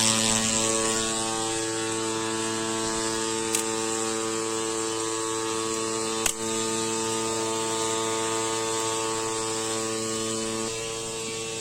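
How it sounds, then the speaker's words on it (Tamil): A pesticide sprayer motor running in a neighbouring farm field, a steady droning hum with tonal whine that continues unbroken throughout, with two brief clicks. "பக்கத்து தோட்டத்துல மருந்து அடிக்கிறாங்க, அந்த மோட்டாரோட சவுண்டு."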